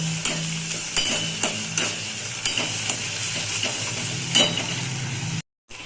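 Ginger-garlic paste is stirred into frying onions for chicken, with a sizzle under a series of regular spoon-on-pan knocks and scrapes, then a short silence near the end.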